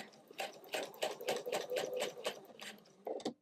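Sewing machine stitching soft Minky fabric for an ottoman pouf, running in short repeated bursts with brief pauses, close and moderately quiet.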